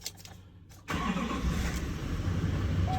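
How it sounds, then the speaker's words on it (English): A Duramax LML diesel pickup engine cranks and catches after a quiet moment, then settles into a steady, loud, close-up diesel idle. "Turn the truck on."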